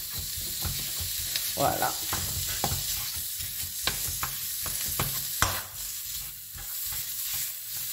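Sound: lean ground beef frying and being mashed in pan

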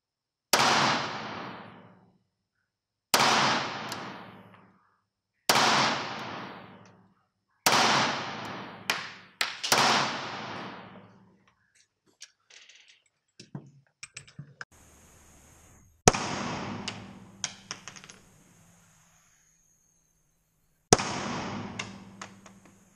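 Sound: Beretta APX Centurion 9x21 pistol shots

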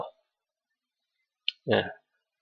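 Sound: computer mouse click

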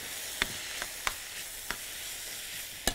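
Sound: frying onion, garlic, chili peppers, green peppers and tomatoes

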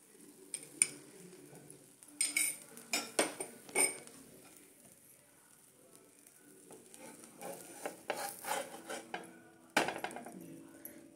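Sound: spatula pressing podi dosa on a pan

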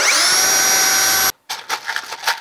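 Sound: power drill drilling holes for boat hinges

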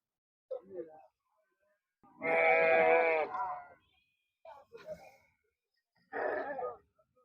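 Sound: sheep bleating at a livestock market

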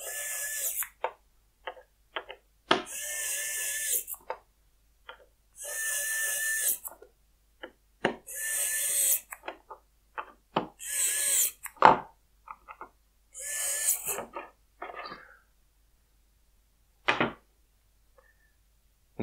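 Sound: HYCHIKA HYQ2001 cordless precision screwdriver running

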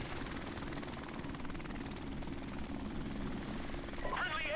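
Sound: helicopter in video game Call of Duty 4 Modern Warfare Remastered

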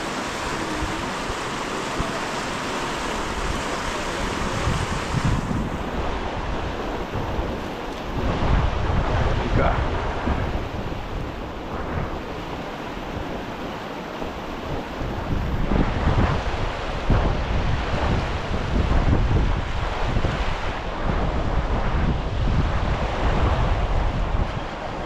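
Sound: river rapids rushing water in the Amazon

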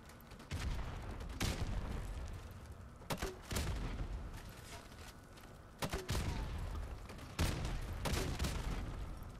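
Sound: grenade launcher explosions in a video game gun game

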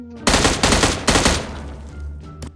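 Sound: gunfire in the video game BGMI

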